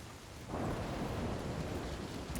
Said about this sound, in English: this rain needs to go away